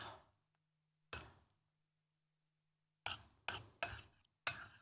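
Flour and water are stirred in a bowl for a toast-bread snack dough, heard as a brief scrape, a pause, then four quick bursts of rough mixing strokes near the microphone.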